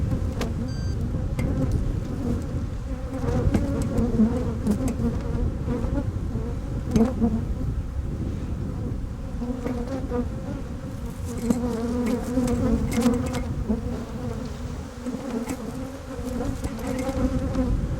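Honey bees buzz in a dense, continuous drone from an open hive as frames are shaken out, the humming steady and close with occasional sharper passes of individual bees.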